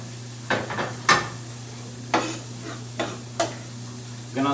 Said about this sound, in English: We're gonna saute the onions, the garlic, and the ginger.